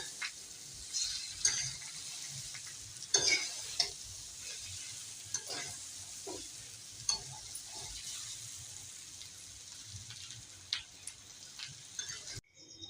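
Patra, colocasia leaf rolls, roasting in a pan, a soft steady sizzle under occasional scraping and tapping of a spatula against the pan, faint and continuous.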